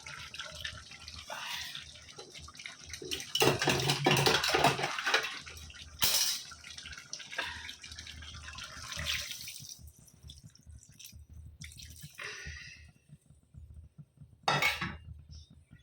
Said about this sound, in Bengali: জল দিতে হবে।